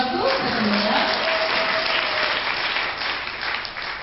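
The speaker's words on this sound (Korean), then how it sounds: "감사의 박수 부탁드립니다." Applause from the audience at a Korean company's 2018 year-end party fills the hall, a dense, steady wash of clapping that keeps up throughout and fades slightly near the end.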